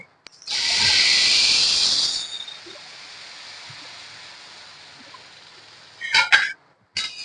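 Water poured into a hot pan of semolina and khoa sends up a loud, steamy hiss that peaks at once and fades over about two seconds into a low simmering sizzle, followed by a few short clatters.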